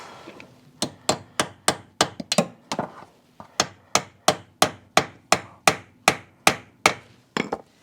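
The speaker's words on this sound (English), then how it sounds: "Hammer it on." Sharp metallic hammer strikes ring out as a 5/16 socket is hammered onto a stripped bolt on a Polaris Sportsman 800, a steady series of about fifteen close, loud blows with a short pause partway through.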